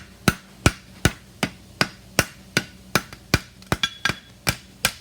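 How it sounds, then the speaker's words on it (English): A hammer strikes metal repeatedly on the corner of an anvil while shaping a horseshoe toe clip, sharp ringing blows at a steady pace with a quick flurry near the end, loud and close. "And then I'm gonna come straight into the corner of the anvil and just focus on the same spot."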